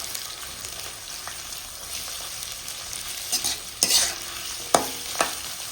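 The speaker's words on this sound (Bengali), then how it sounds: "তারপরে পেঁয়াজটা ভেজে দিই" Onion frying in a pan hisses softly and steadily, with a handful of sharp scrapes and knocks as a spoon stirs it toward the end.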